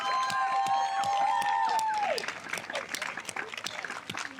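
Audience applause after a performance at the Cranbrook Art Museum, a brief dense patter of clapping heard beneath a sustained tonal ringing that fades after about two seconds, leaving scattered claps and crowd noise.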